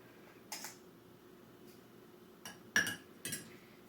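A spoon scoops herbal powder for weighing, heard as a few faint, brief metallic clinks and scrapes spaced over a few seconds against a quiet room background.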